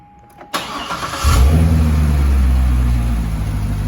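A Chevrolet C6 Corvette engine cranks and catches, then settles into a loud, deep, rumbling idle with the exhaust open, close by and steady after a brief rev at start-up.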